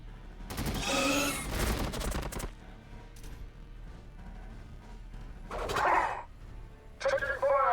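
Rattling bursts of gunfire from the Warhammer 40,000 BattleSector video game, with a dense volley early, then a quieter stretch and two shorter bursts near the end, set over a low steady game backdrop.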